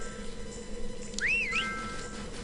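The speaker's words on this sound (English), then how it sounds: "I hear you up there, Jinjo. I'll get you later. Stop whining. Stop whistling." A Jinjo creature whistling in the video game Banjo-Kazooie, a single short rising-and-falling whistle over a steady game background hum, clear and fairly close, no talk.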